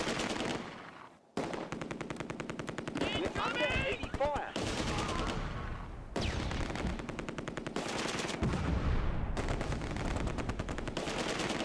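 Vickers machine guns fire in the Close Combat war game set at Arnhem Bridge, long loud rattling bursts with short silent breaks and other battle noise.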